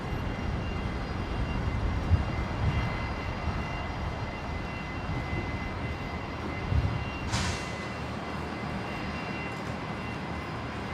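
A Rex Saab turboprop takes off from runway 19 right at Brisbane, a steady, distant engine roar with broadband rumble that holds level throughout.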